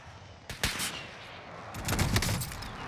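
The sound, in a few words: sniper gunshots in the video game Call of Duty Warzone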